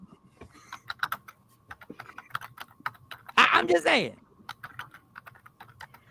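Rapid, uneven clicking of a computer keyboard being typed on, close and fairly crisp, with a person talking over it and a louder burst of speech near the middle.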